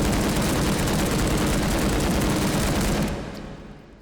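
Sustained full-auto burst from an AK-family rifle in the VR shooting game H3VR, about 26 rounds as a dense, loud, continuous roar of gunfire for three seconds, then cutting off with a brief echoing tail.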